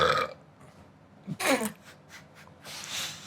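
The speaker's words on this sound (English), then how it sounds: "Perfect timing for the burp." A short, throaty burp rises out of a quiet moment, close and clear, with soft breathy noises before and after.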